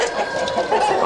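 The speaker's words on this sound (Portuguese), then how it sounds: "Ele filmou as galinhas na quinta." Hens clucking and calling together in a crowded poultry farm shed, a steady dense chorus of overlapping bird voices with no talk.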